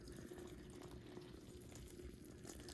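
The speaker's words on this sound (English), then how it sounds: "So let's say that this is your soil and you start pouring in water." Water poured onto potting soil for San Pedro cactus seedlings, a steady continuous trickle and splash lasting the whole stretch, fairly faint, with no talking.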